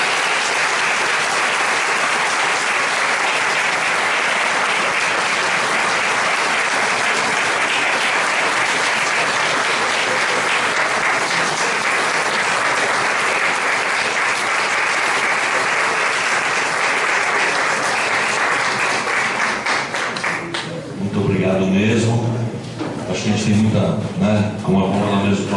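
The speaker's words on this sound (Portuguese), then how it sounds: "Eu peço uma salva de palmas." Sustained applause from a large audience for about twenty seconds, steady and dense, then fading as a voice begins speaking.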